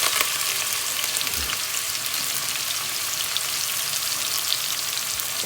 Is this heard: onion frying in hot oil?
yes